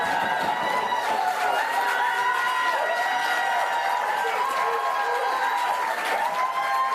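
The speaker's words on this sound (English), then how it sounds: "Raucous cheering there by the relieved Labour supporters." Relieved Labour Party supporters at an election night count cheer and clap in a raucous, continuous crowd roar, heard from a distance with a steady, even level.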